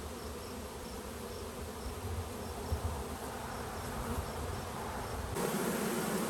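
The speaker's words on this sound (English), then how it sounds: "Those bees are fanning after the install here." Honeybees fanning at a hive after a swarm install give off a dense, steady buzzing drone. It runs close and unbroken the whole time and swells slightly near the end.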